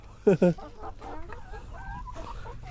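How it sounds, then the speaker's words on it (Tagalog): Chickens cluck and chatter nearby in short bursts while eating, with a couple of loud sharp squawks at the start and softer murmuring calls after. "kumakain na yung aking mga alagang manok"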